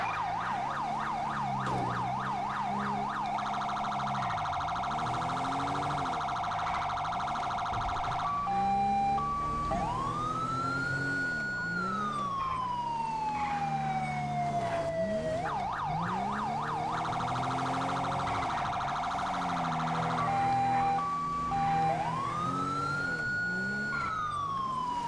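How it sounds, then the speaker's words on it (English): Code 3 police car siren in the video game Grand Theft Auto V, loud and close, cycling through a rapid yelp, steady tones and long rising and falling wails, repeating across the whole stretch with no talk. "She's using the code 3 siren."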